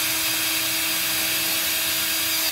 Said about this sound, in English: and drill that bad boy all the way through